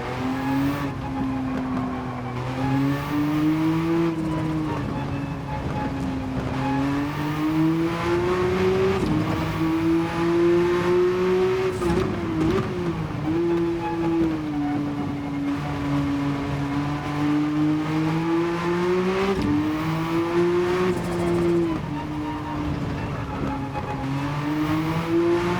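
Race car engine in Gran Turismo 7 at Spa, a loud sustained engine note that rises and falls through shifts and deceleration, with brief tire squeals, steady and close throughout.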